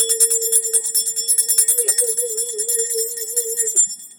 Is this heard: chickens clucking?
no